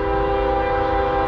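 A CSX manifest train arriving fast, its traction motors screaming: a loud, steady high-pitched tonal whine over a low rumble, brief and close, with no talking.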